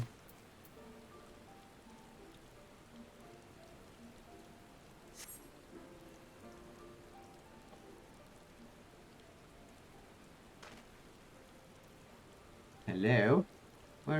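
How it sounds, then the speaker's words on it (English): Rain falls steadily and softly in a Final Fantasy XIV scene, a quiet continuous patter with a few faint tonal game sounds and one brief loud burst near the end. "It's raining"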